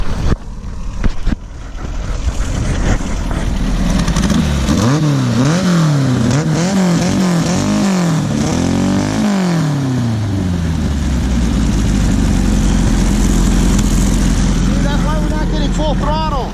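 A sandrail dune buggy engine revs hard at full throttle off-road, loud and close, climbing and falling in repeated sweeping surges before holding a steady high roar, with voices talking over it.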